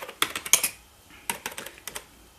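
Keys clack on an Epson PX-4 computer keyboard in uneven bursts of taps with short pauses between them, close and fairly crisp.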